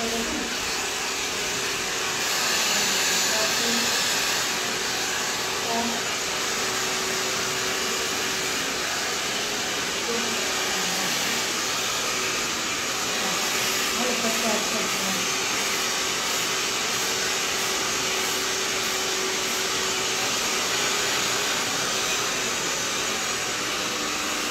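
A hair dryer blows continuously while hair is styled with a round brush, a loud steady roaring whoosh with slight shifts as it moves and no talking.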